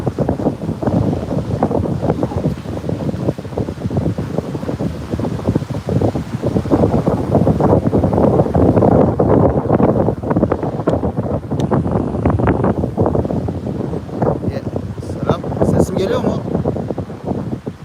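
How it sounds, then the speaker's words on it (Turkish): Heavy wind buffets the microphone, a constant low roaring rumble that swells and dips throughout. "rüzgar, ya, rüzgar, rüzgar da geliyor. Bak buraya dikildiğim halde gene geliyor."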